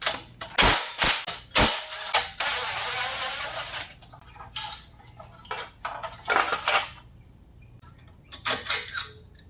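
Metallic clanks, scrapes and ratcheting clicks come from working a throttle plate off a 420cc go-kart engine, held by tight 14 mm bolts; bursts of close, sharp tool-on-metal noise separated by quiet pauses, with no talk.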